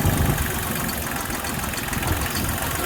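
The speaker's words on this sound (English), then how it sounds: "I'm really glad to have this little tractor." A small farm tractor engine idles steadily, a continuous low rumbling drone that stays near and fairly loud for the whole stretch, with no talk over it.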